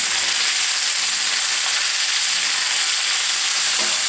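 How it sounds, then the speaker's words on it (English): Chicken breasts brown in a hot pan before braising with vegetables, a dense, loud, steady sizzle up close with faint crackles and no voices. "we've got some nice browning going on here"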